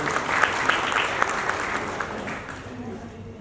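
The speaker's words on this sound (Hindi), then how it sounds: "जोरदार तालियां बजाइए" Applause at a Dr. B.R. Ambedkar Gaurav Award ceremony for a donor couple who gave an ambulance, dense clapping from the hall with a few sharper claps standing out, gradually thinning as it fades.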